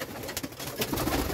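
Pigeons in a coop coo briefly, a soft, close, muffled murmur.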